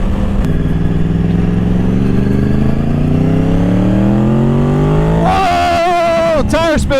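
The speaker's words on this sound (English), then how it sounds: "Whoa! Tire spin! Gosh dang, man. And that was just like half throttle, maybe 3/4 throttle" A motorcycle ridden on a track in Mode A accelerates hard at part throttle with the rear tire spinning, its engine rising steadily in pitch for several seconds before an excited voice breaks in near the end.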